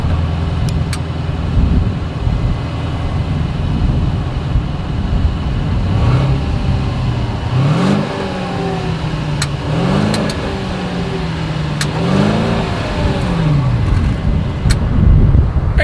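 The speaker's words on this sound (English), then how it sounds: "As always, here is that exhaust clip." A Mercedes-Benz S580 luxury sedan idles with a deep exhaust note, then revs in several rising bursts that fall back to idle, loud and close, with no talking.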